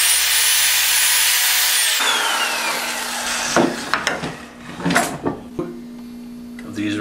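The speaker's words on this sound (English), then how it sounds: "When you're drilling into a piece of wood, you want to make a very deep hole." Power drill boring a deep hole into a piece of wood: a steady high-pitched whine for the first couple of seconds, then uneven grinding bursts and scraping as the bit is pulled in and out, recorded close and loud.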